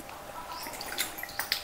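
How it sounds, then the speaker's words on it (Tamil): Water dripping and trickling into a bowl of freshly ground henna paste, giving a soft, close stream of small drips and wet splashes for a brief moment, with no talking. "இன்னும் கொஞ்சம் தண்ணி கூட சேர்த்துக்கலாம்."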